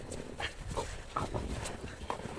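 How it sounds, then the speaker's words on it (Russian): A dog in a yard gives a few soft, quiet vocal sounds, short whines and snuffling noises spaced irregularly, close but faint over low background rumble. "Хорошая моя собака. Послушная."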